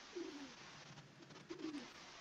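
Pigeons cooing outside a house, two soft low coo phrases about a second apart, faint and distant over a steady background hiss.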